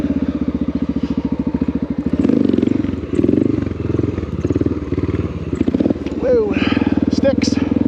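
A Honda XR650L motorcycle riding off-road along an old road through swampy, river country, its loud single-cylinder engine chugging close up with clattering bumps and rattles over rough ground while a rider talks over it.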